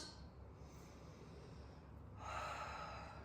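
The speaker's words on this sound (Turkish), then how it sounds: "Nefes alıp veriyorum." Slow, audible diaphragmatic breaths close to the microphone during a back-pain exercise: a long inhale followed by a fuller, airy exhale, quiet and unhurried.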